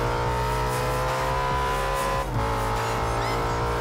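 Audi RS5 S1 racing in Forza Horizon 2, a steady loud engine drone with tire squeal as the car slides through a corner, continuous with a brief dip midway.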